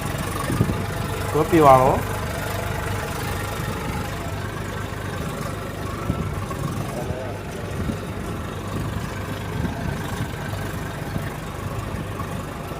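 A tractor engine idles with a steady low rumble throughout, while someone speaks briefly near the start and faint voices come and go over it.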